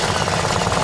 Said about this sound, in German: Der Anlasser dreht, aber der Motor kann nicht anspringen